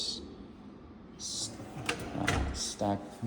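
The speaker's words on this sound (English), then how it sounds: "You've got the undermount cabinet slides with the soft close." An undermount soft-close cabinet drawer in a new-construction kitchen slides shut with a low rolling rumble, then a soft damped knock, close by amid room noise.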